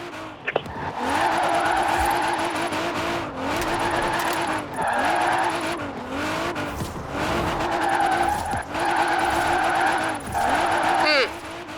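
Engine revving and tyres squealing in long skids from a 1969 Ford Mustang Boss 302 drifting in Forza Horizon 4, loud and continuous with repeated pitch swoops, with some speech mixed in.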